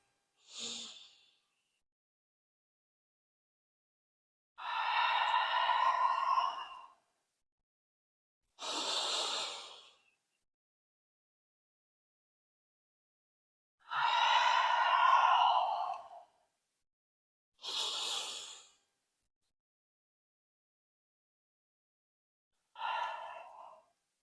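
Deep yoga breaths during a full-body flow, several long airy inhales and exhales spaced apart by silence, close and breathy with no talking.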